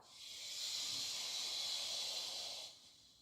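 A soft, steady "che" breath sound exhaled during a yoga class, one hissing out-breath lasting about two seconds, quiet and close.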